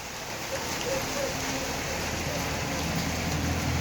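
Rain falls steadily outdoors, making an even, continuous hiss of drops that stays at a constant level throughout.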